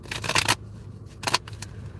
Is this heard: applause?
no